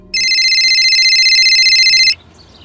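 A telephone rings with one sustained electronic trill lasting about two seconds, clear and close, then cuts off into near silence, with no voices.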